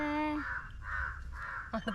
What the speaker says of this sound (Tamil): காக்கா இப்போ